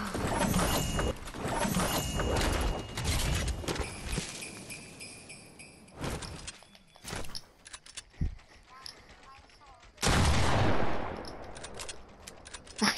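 Desert Eagle pistol shots in a video game ring out in loud, sharp bursts, several reports clustered early then scattered single blasts, with other game clatter and movement between them.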